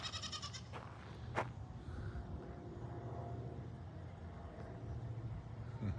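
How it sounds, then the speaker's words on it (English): Goats bleating repeatedly in a Florida farm yard near chicken tracks, the calls rising over steady low outdoor rumble and light background noise, with no talk. "What are you goats doing up there?"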